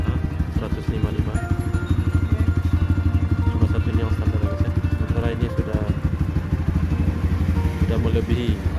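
A Yamaha 155 motorcycle engine on a forest trail ride runs with a loud, steady, rapid low chugging throughout, close by, while someone talks over it.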